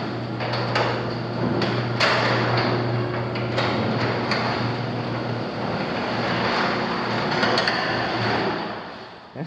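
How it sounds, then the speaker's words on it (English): A metal panel overhead garage door at a new construction townhome rumbles and rattles as it moves, a loud continuous grinding with scattered clanks and knocks lasting about nine seconds. "That's not the quietest door I've ever heard."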